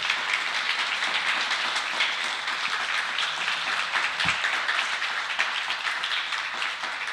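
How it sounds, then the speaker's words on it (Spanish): Dense, steady applause from an audience at an evening open-mic event, rolling on evenly for several seconds without a break. "Quisiera que le diéramos un aplauso a las 11 personas"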